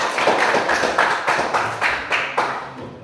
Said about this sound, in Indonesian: Beri tepuk tangan buat kelompok kita.